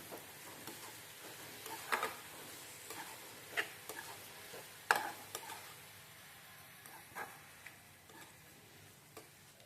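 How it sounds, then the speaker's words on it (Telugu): Small methallu fish (anchovies) frying in a pan, a quiet sizzle broken by occasional sharp ticks and light stirring clinks, with no speech. "ఇప్పుడు ఆల్రెడీ మనం కడిగి పక్కన ఉంచుకున్న మెత్తాళ్ళని ఇందులో వేసి ఒక 1 or 2 minutes అట్లా ఫ్రై అవ్వనివ్వాలండి."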